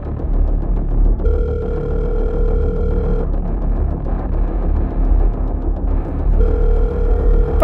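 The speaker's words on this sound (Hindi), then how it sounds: "पता नहीं ये लोग फोन क्यों नहीं उठा रहे।" A telephone rings repeatedly without being answered, two bursts of electronic ringing over a low engine rumble inside a moving vehicle at night.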